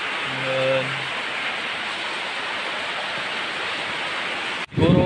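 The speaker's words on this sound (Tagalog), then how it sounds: "Kaso ngayon medyo malakas pa talaga yung ulan" Heavy rain pouring down steadily on a roof near a hut, a dense constant hiss that cuts off abruptly near the end, with a brief tonal sound early on.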